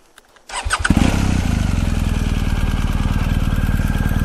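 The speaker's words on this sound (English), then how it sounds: "let's start the engine now." BMW R 1250 GS motorcycle, a 2019 model with stock muffler, turns over after a short pause and catches abruptly, then settles into a close, loud, even idle with a steady pulsing beat.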